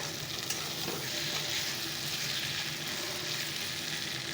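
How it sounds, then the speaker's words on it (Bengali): Onion and garlic frying in a pan for a dried-fish curry with potato, eggplant and tomato, giving a steady, close sizzle that runs throughout with faint stirring scrapes and no talking. "চলো পেঁয়াজ রসুনটা ভাজা হয়ে যাক"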